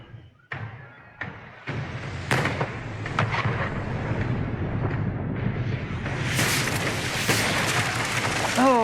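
Naval cannon fire at sea in Pillars of Eternity II: Deadfire, several heavy booms in quick succession swelling into a loud, continuous rolling rumble.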